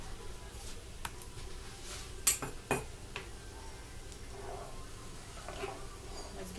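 Rice in a pot for cheesy Mexican rice is stirred with a utensil, giving soft scraping and a few sharp clinks of metal against the pot, close and moderately quiet over a faint background hum.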